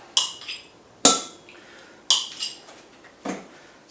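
Sharp metallic clinks and scrapes ring out as butter is put into a Kenwood mixing bowl, four distinct knocks spaced about a second apart with quieter scraping between them, close and clear with no talking.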